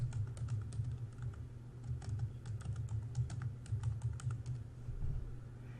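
Steady keyboard typing while a solar PV system's home energy manager is set up: scattered soft key clicks over a constant low electrical hum, close and fairly quiet, with no voice.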